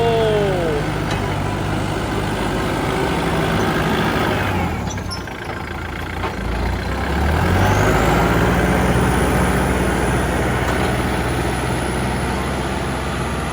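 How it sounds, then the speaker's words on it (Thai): Kubota tractor pushing soil, its diesel engine rumbling steadily at close range, briefly easing off midway before pulling harder again, with faint squeaks and scraping over the drone. "ตอนนี้รถไถก็ดันดินมาแล้วครับ"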